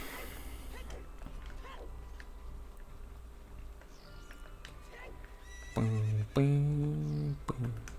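A horse whinnies loudly twice near the end in the video game Zelda: Ocarina of Time, over steady background noise and soft hoof clops.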